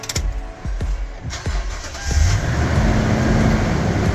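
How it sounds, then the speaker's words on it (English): Toyota Tundra V8 starting: several quick cranking pulses, then the engine catches and settles into a loud, steady idle close by. "Now, let's start the car."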